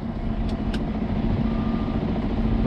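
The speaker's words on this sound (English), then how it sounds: "I got a truck in my way, trying to back in." Truck backing in on a snowy day, reversing beeps chirping twice over a steady idling engine rumble, with a faint continuous tone running beneath.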